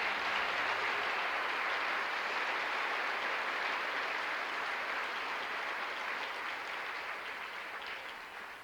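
A church congregation claps in sustained, dense applause that stays loud and even before easing slightly toward the end.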